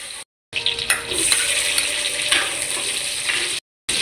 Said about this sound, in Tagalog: Bago tayo magluto, lagay natin yung bawang. Gisa-gisa.